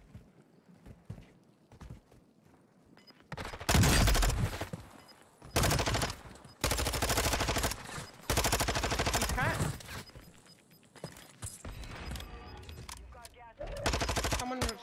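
Bursts of gunfire between rival teams in an online shooter game, loud rapid volleys coming in several separate clusters with quieter gaps between them.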